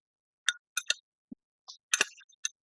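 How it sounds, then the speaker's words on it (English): Fresh berries are stirred with lemon juice and powdered sugar in a bowl, giving several light, sharp clinks of a utensil against the dish, scattered and close. "Give them a stir,"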